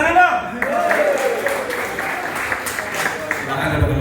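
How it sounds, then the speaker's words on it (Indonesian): An audience at a company anniversary event gives steady, moderately loud applause throughout, with a voice speaking over the clapping at the start. "Tepuk tangan dong."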